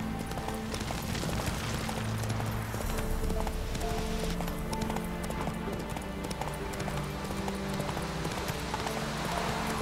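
Roach the horse galloping in The Witcher 3: steady rapid hoofbeats clip-clopping without pause over a dense game soundscape, with a faint whinny and a little talk.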